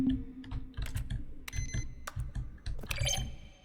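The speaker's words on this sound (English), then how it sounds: "A selection of the sounds used throughout the game when buttons are pressed. Each sound is a mix of a keyboard stroke and a synthesized tone." Button presses from The Stanley Parable video game, each a keyboard stroke blended with a synthesized tone, come as a quick series of crisp clicks with bright chiming beeps, fairly close and without talk.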